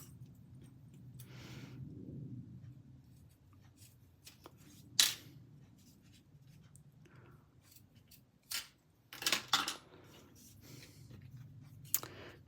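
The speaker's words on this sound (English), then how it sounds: "Okay, and then you'll need to get your scissors and trim that up." Scissors trim ribbon on a stamped paper card, giving several quiet, sharp snips in irregular clusters over a faint background hum, with a soft rustle of handling between cuts.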